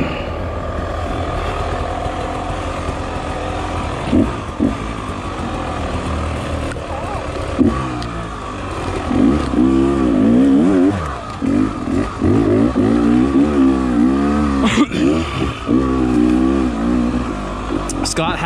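Dirt bike fitted with a Rekluse CX Radius clutch, ridden off-road at Doe Mountain, its engine revving and surging up and down nearby amid wind noise, with a voice talking over part of it.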